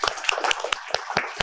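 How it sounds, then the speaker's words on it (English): A small audience at a startup ecosystem panel gives a brief, sparse scattering of claps, with about a dozen distinct hand claps spaced irregularly over a second and a half. "So big round of applause for them to start with."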